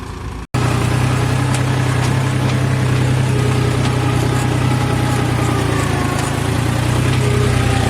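A New Holland 4710 4x4 tractor engine runs steadily while ploughing a waterlogged field, a loud continuous low drone with a constant hum, cutting out for an instant near the start before resuming at full volume.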